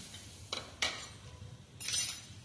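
A spoon clinks and scrapes against a cooking pan three times in short bursts as curry leaves, onion and garlic cloves are stirred for a potato sabji, close up with a faint background hum and no talk.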